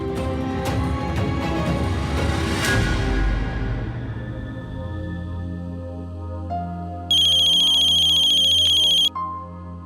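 A phone rings with an incoming call. A steady, bright electronic ringtone cuts in for about two seconds, loud and alone, after a stretch of fading background music.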